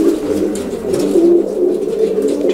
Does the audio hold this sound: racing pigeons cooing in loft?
yes